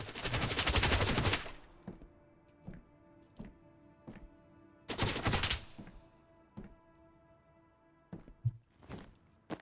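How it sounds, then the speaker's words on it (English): Enemy gunfire in the video game Road to Vostok, set in a winter permadeath run: two long, loud automatic bursts separated by a string of single sharp shots and clicks, with no speech. "the enemies do hide in that room right there when they do shoot at you"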